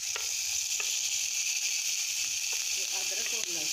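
Onions and tomatoes fry in a pan for malai kofta, a loud steady sizzle throughout with a few light stirring clicks toward the end.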